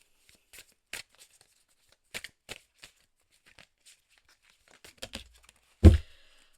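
Tarot cards are handled and shuffled in a sparse series of soft, close snaps and flicks, ending with one louder thump as the deck is set down; no talking.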